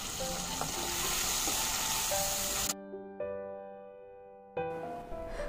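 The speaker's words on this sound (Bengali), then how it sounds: "এবার লাল করে আলু পটলগুলোকেও ভেজে নিচ্ছি।" Potatoes and pointed gourd frying in hot oil in a kadai give a steady, close sizzle that breaks off partway through, leaving a quiet gap before the sizzling returns loudly.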